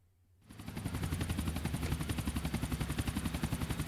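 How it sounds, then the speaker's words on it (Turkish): A helicopter in the video game GTA Vice City goes down with rapid, loud rotor chopping that builds quickly and stays steady; no voices. "helikopter düşüyor"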